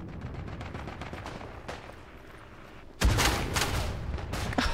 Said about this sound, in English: I just hear the SMG going full auto everywhere.